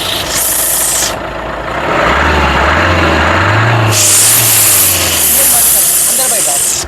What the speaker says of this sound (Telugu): ఒకసారి యాక్సిలేటర్ ఇచ్చి ఈ కారు యొక్క నాయిస్ అనేది వినిపిస్తున్నాను